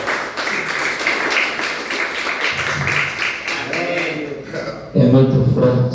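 Church congregation clapping together, a steady dense patter of many hands filling the room, swelling louder near the end, with voices mixed in under the applause.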